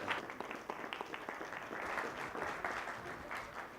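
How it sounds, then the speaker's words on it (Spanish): An audience at a banking conference talk applauds as the speaker is introduced, producing a brief, fairly faint spell of scattered claps that thickens into steady clapping, with some crowd murmur underneath. "Fuerte aplauso,"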